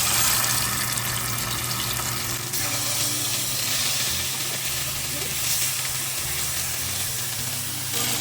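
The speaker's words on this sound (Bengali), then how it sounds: "চিকেনগুলোকে ফ্রাই করে নেব।" Chicken pieces seasoned only with salt fry in a pan, giving a loud, continuous sizzle and hiss close up that runs the whole time with no talk over it.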